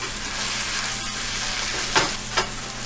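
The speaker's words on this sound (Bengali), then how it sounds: "অনবরত নেড়ে নেড়ে আমি মশলাটা কষিয়ে নিচ্ছি যেন কোনো দিকে কম বা বেশি না হয়" Masala spice paste of onion, garlic and ginger frying for a Bangladeshi-style egg curry, a dense, constant, loud sizzle with two brief scraping stirs near the end, close up and without talk.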